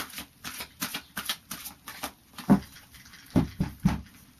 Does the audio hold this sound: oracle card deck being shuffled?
yes